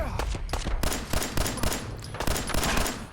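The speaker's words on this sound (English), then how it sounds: "More gunfire. Gunfire everywhere." Rapid gunfire rings out in the Fallout 4 wasteland, a dense burst of overlapping shots with sharp, close cracks and short gaps, loud and continuous throughout.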